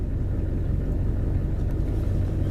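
A 1984 Oldsmobile Delta 88 Royale diesel engine turning over on a cold start, with a steady low rumbling drone that holds throughout at close range, with no voices.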